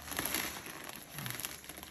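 Hands rummage through a crinkly bag, giving a steady near rustle and crackle of plastic with small bursts and no talking.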